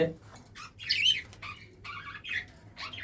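Caged budgerigars chirp and squawk in short, bright bursts, several overlapping calls at close range, with a person talking softly underneath.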